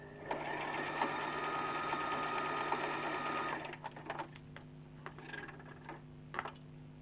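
A Brother LS14 domestic sewing machine stitches in a loud, steady mechanical whir for several seconds, then slows into softer, intermittent ticking and short bursts as the stitching stops and starts.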